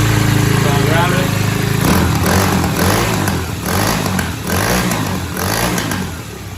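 A SYXMoto VK 58cc kids dirt bike engine starting and running, a small single-cylinder buzz that idles and rises in uneven revs close by, with people talking over it.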